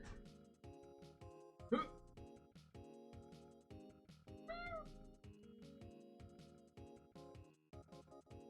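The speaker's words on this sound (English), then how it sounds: "Meowing." In a game, a cat gives a couple of short, faint meows, one sharp and one drawn out, over a busy musical soundtrack.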